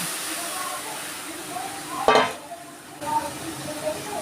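Tamarind water for a hilsa fish curry tipped into a hot kadai, a sudden loud hissing burst of steam and sizzle over an ongoing background sizzle, which then settles back down.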